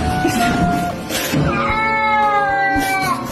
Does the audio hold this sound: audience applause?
no